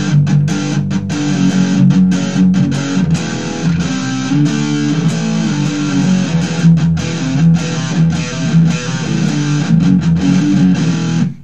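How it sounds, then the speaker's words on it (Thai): Electric guitar played through a Tech 21 RK5 overdrive pedal, a steady driven riff with chugging low chords and crisp picked accents, loud and continuous with no talking. "การใช้เสียงไดรฟ์ตรงนี้นะครับต้องให้มันบาลานซ์กันนะครับ"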